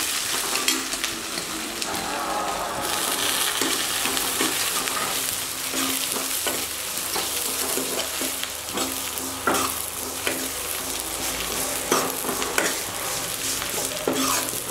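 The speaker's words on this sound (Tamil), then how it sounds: "இப்போ நம்ம நறுக்கி வச்ச பெரிய வெங்காயத்தை இதில் போட்டு வதக்க போகிறோம்." Large chopped onions sizzle steadily in a hot pan while a spoon stirs and scrapes now and then, a continuous frying hiss up close, cooking for Tamil fish curry.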